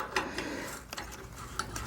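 Wrench working rusty 7/16 carriage bolts on a small stock trailer, giving a few soft metallic ratcheting clicks and scrapes close by, with no talking.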